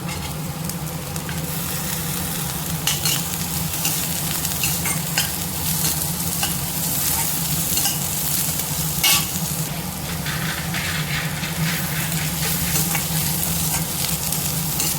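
Onion and carrots sauté in a hot pan with a loud, steady sizzle that continues throughout, broken by frequent scraping stirs of a spatula against the pan.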